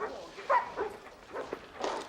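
Several dogs bark and yip in short, scattered bursts at moderate distance, mixed with voices talking over them in a Western town scene.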